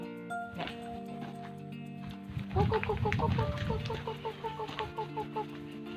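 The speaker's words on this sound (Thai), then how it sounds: "มีเลี้ยงไก่บ้านด้วย เลี้ยงไก่บ้านด้วย" Free-range domestic farm chickens and fighting-cock chicks on a small mixed Thai farm plot cluck in a rapid, repeating series of short calls near the microphone, with rustling and a background tone underneath.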